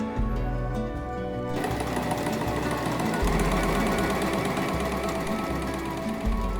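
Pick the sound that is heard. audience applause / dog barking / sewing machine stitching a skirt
sewing machine stitching a skirt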